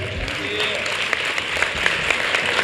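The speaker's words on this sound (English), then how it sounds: "give a round of applause to this young man" An audience at a middle school symposium applauds a young man, a full round of clapping that swells and holds steady, with a few sharper claps and faint voices beneath it.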